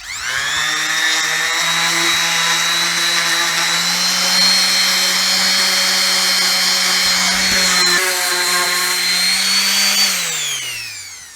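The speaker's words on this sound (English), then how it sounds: "let's get this sanded up" An electric power sander runs on wood for a goat milking stand, outdoors. It gives a loud, steady high whine for about ten seconds, shifts pitch partway through, then spins down, with no talking.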